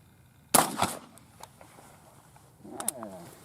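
A .410 shotgun fires Remington Express 2.5-inch shells with number 6 shot: one sharp, loud report followed by a quick echo, then a quiet pause and a fainter second burst of clatter near the end.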